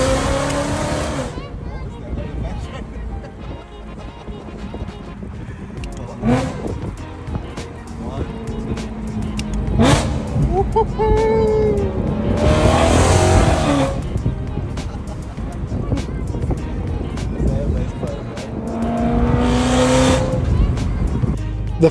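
A big-turbo Toyota Supra with a 2JZ engine heard from inside on a ride along, loud revs swelling and dropping in repeated surges with some tire noise, while people talk over it.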